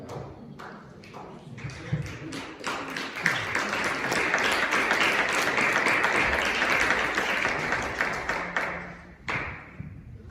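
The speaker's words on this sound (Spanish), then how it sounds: "denle un fuerte aplauso al Señor" A church congregation at a youth evening service breaks into sustained applause, building from scattered claps into a dense, loud wave that holds for several seconds before stopping abruptly near the end.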